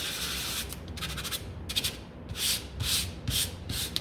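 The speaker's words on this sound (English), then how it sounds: "Gently pull your sandpaper over that, and then you can do these again." Sandpaper pulled by hand over a wooden pallet sign, a series of close, rhythmic scratchy rubbing strokes, some short and some longer, heard alone with no talking.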